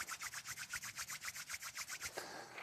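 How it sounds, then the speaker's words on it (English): Palms rub together briskly during a beginner yoga session, a quiet, close, rhythmic swishing of about a dozen even strokes before stopping. "Let's bring our palms together and rub them."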